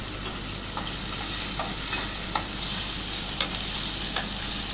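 Onions and sweet corn fried in a pan give off a continuous close sizzle, with scattered clicks and scrapes from stirring and no talking.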